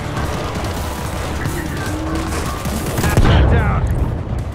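Gunfire from a newly picked-up weapon in World War Z, loud and continuous with a heavier burst of blasts near the end, mixed with game noise.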